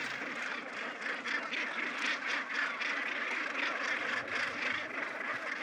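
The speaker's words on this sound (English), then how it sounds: "The gannets arrived back here as early as March, well, as early as January" A dense colony of gannets on a research island calls continuously, a harsh, grating chorus of many birds filling the background at moderate volume with no speech over it.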